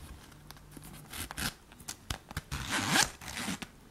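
The zipper on a men's wallet from Aliexpress is pulled open in several short, jerky runs of close, crisp zipping, a little rough and uneven, with light rustling between the pulls.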